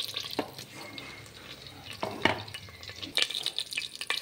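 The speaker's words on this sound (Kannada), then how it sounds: "ಸೊ ಚಟಪಟ ಚಟಪಟ ಆಗ್ತಾ ಇದೆ" Spice tempering for GSB patrode, with fenugreek seeds crackling and popping in hot oil, close and continuous, with sharper bursts of spatter now and then.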